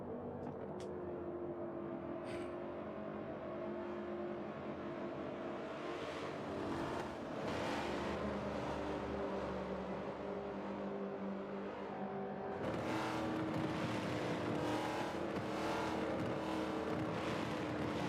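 Race cars from a NASCAR Daytona 500 video game, a steady roar of engines at moderate level throughout, swelling louder around the middle and again near the end as the pack runs together.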